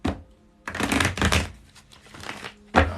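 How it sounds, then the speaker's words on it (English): A deck of tarot cards being shuffled close up, giving dense riffling and crisp flicking bursts that come in several uneven clusters with short breaks between them. "let me shuffle these cards"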